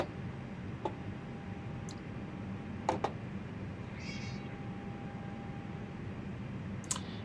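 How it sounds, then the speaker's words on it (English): A house cat sitting beside its owner meows several times at breakfast time, short faint calls scattered over a steady low background hum with a few light clicks. "My cat is sitting next to me wondering if it's breakfast time."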